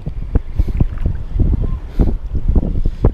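Strong wind blows at sea in dark, stormy weather, buffeting the microphone in loud rough gusts with rumbling low-end surges.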